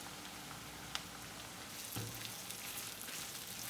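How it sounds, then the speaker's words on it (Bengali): Chopped onions frying in hot oil over a high flame, a dense continuous hiss with a faint stirring knock or two. "পেঁয়াজটা আমি এখানে হাই ফ্লেমেই ভাজছি মোটামুটি"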